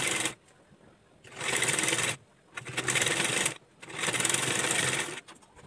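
A sewing machine stitches lace onto a blouse neck in three long whirring runs separated by short pauses, loud and close with a steady mechanical buzz and no talking.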